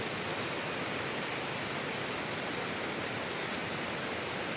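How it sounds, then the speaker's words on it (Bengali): Heavy rain pours down during hot weather as a steady, even hiss with no breaks, with no voices or other sounds above it. "একদিকে ঝাপসা গরম আর অন্যদিকে আকাশে তীব্র বৃষ্টি"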